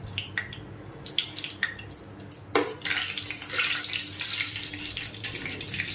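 Mustard seeds, cumin and fenugreek are dropped into hot oil in a kadai on a stove, giving a few scattered pops and then a steady, bright hissing sizzle that continues unbroken.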